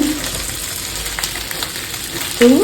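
Food frying in a pan on a home stove as fish heads are cooked with cabbage, a steady broadband sizzle with faint stirring clinks and a brief louder scrape near the end, no talk.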